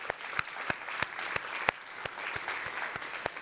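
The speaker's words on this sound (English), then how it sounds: "So can we give another round of" Summit audience in a hall applauding, a steady bed of many clapping hands with distinct louder claps popping out at a regular pace, moderately distant, lasting a few seconds without speech.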